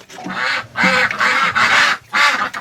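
Loud, close duck quacking in repeated bursts separated by short pauses, several birds calling one after another in a duck pen, with no talking.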